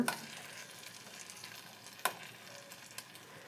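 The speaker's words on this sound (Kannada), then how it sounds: "ನೋಡಿರಿ, ಹಿಂಗೆ ಫ್ರೈ ಮಾಡ್ಕೋಬೇಕು." Ivy gourd frying in a pan, a steady quiet sizzle with a few sharp clicks as it is stirred, no voices.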